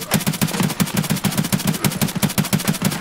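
Rapid automatic gunfire in a combat video game, a sustained string of sharp, evenly spaced shots rattling close and loud with no pauses.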